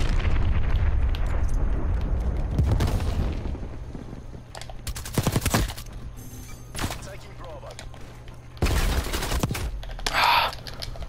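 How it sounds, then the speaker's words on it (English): Bursts of gunfire and heavy grenade blasts in a multiplayer shooter match, loud booms and crackling shots coming in clusters with pauses between, while players talk over the action. "Chuck your nades in."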